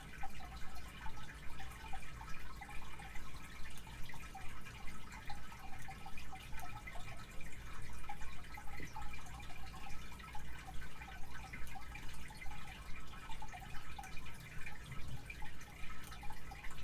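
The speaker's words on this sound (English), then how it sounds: "Is it the water? Because that's just my fish tank." Home fish tank water bubbling and trickling steadily, a continuous close wash of small splashes and drips that runs throughout with no talking.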